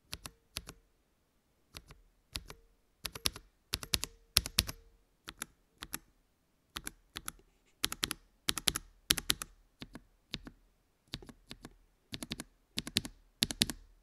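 Typing on a keyboard fitted with hand-lubed Akko CS switches: clusters of crisp, close keystrokes in quick irregular bursts separated by short pauses, with no talking.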